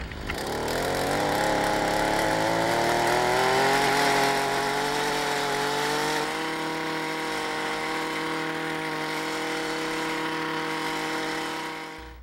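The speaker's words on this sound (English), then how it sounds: "what I have here is a handy dandy little portable tiller, two-cycle engine, and I'll get it started" A small portable garden tiller with a two-cycle engine fires up and runs: a loud, buzzy close-range drone that climbs in pitch at first, then settles into a steady run before cutting off at the end.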